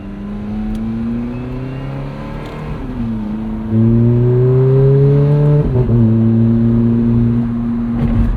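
A 2008 Ferrari F430 Spider's V8 pulls hard from inside the cabin. Its tone rises steadily, drops at each gear change, then climbs again, a loud and smooth engine howl with no talking.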